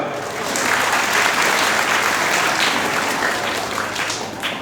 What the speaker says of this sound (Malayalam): നിങ്ങൾക്ക് അത് അംഗീകരിക്കാൻ തയ്യാറുണ്ടെങ്കിൽ നിങ്ങൾക്കൊരു കയ്യടി നൽകാം